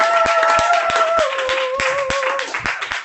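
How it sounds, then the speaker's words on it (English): Hands clap at a stand-up comedy open mic in a steady rhythm, about three claps per second. The claps are loud and close, with a sustained tone running underneath. "I found myself clapping"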